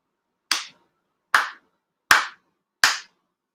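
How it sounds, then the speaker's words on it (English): Four deliberate hand claps mark a Shinto prayer at a Konkō grand ceremony, loud and close, struck at a slow steady pace with silence between each. "Shido Haide, 4 sincere claps"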